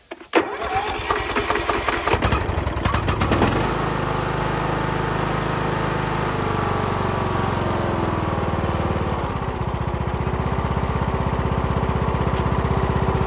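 A small lawn mower engine, just repaired by tightening its engine bolts, cranks a few times, catches, and settles into a loud, steady drone that keeps running.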